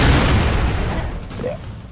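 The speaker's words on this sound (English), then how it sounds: "we'll just throw a grenade down here" A grenade blast in The Expendables video game, a loud deep boom at the start that rumbles and decays over the next couple of seconds, with a voice heard near the end.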